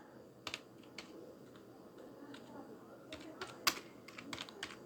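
Keys tapped on a computer keyboard while entering a title, giving scattered quick clicks at moderate level over a steady room background.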